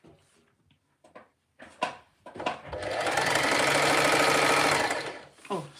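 A Singer Heavy Duty 4423 sewing machine running gather stitches, a few short starts followed by a steady, close whirring run of rapid needle strokes lasting a couple of seconds before stopping.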